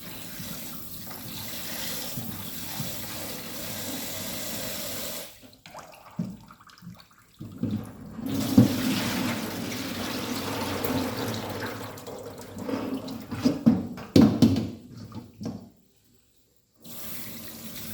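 Pork legs for a tom yum soup are rinsed under a running kitchen tap: a steady, close gush of water with short breaks and splashy changes as the meat is moved, then a brief silence near the end.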